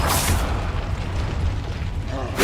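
A fiery Confringo spell blast in the Hogwarts Legacy video game erupts as a loud, rumbling boom that stays heavy and dense for about two seconds, with a sharp burst at the start and another at the end.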